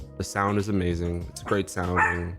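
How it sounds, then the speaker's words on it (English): A dog barks in several short yips and woofs close by, mixed under someone talking steadily indoors. "Sorry about the dog."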